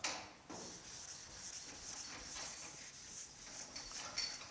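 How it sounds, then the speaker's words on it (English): Hand sanding of guide coat over polyester primer on the hood of a 1950 Chevy truck, a close, steady rasping rub in repeated back-and-forth strokes with no talking. "let's get some sanding done and see how it turns out."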